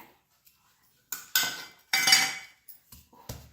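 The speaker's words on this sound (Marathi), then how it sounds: "आपण लसूण असा मोठा मोठा कुटून घेऊया" Garlic is pounded coarsely with a mortar and pestle, making several sharp, close knocks with gaps of silence between them, some blows heavier and others lighter and clinking.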